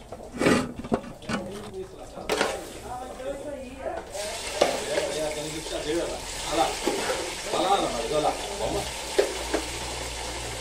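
Chicken pieces frying in oil in a pan on a wood-fired stove, a continuous close crackling sizzle with scattered pops, under intermittent talking.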